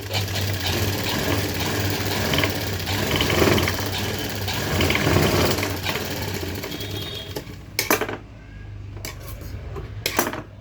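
A sewing machine stitching along the edge of a designer blouse, a steady close whirring run for several seconds that gives way to a few sharp clicks and knocks near the end, no talk.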